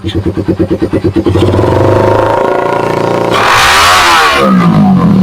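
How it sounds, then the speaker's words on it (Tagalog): A motorcycle with a loud aftermarket exhaust pipe, close and very loud, starting with rhythmic pulsing idle thumps, then climbing into a sustained rev and a sweeping roar. "Lakas pala ng daing pipe mo na"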